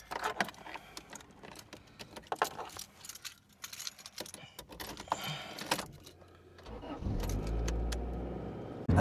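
An EH sedan engine cranks and catches after keys jangle and handling sounds, then settles into a loud, steady low idle for the last couple of seconds.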